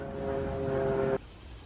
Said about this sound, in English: And there's another plane.